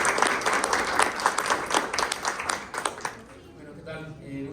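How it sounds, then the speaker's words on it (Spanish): An audience at a forest entrepreneurship panel, Empresas del Bosque 2023, claps for a speaker named Diego: steady applause from a moderately sized crowd, fading after about three seconds into room murmur and a voice beginning to talk. "Gracias, un aplauso para Diego."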